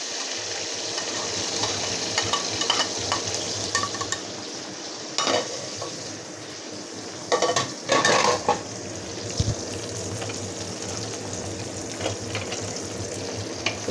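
Onions, about one and a half cups, fry in a pan for a raw jackfruit curry. The sizzle is steady and close, and a spoon stirring and scraping the pan breaks through in several louder bursts.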